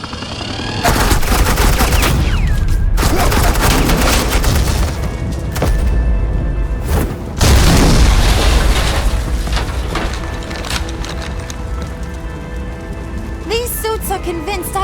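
Sustained suppressing gunfire in Batman: The Enemy Within, loud and dense bursts of rapid automatic shots running almost continuously, with a brief lull near the middle before the firing resumes, tapering toward the end.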